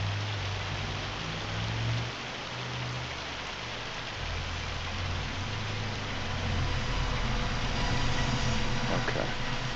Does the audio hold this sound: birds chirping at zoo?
no